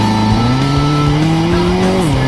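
A fire-damaged Ferrari spinning its wheels, with a loud, close engine roar rising in pitch and a continuous tire squeal throughout the short burst.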